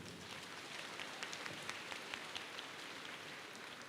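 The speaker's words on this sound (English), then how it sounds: "Please give her a round of applause." An audience at a ceremony with performances for His Holiness applauds after a song, a faint, distant, steady wash of many hands clapping with scattered sharper claps.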